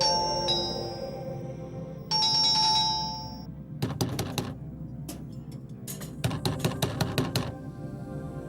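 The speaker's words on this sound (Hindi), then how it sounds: "फिर कोई घंटी क्यों बजा रहा है?" A doorbell rings in two sustained electronic chimes, followed by a burst of rapid clicking, close and fairly loud with no talk.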